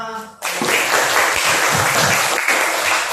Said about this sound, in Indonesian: Beri tepuk tangan sama.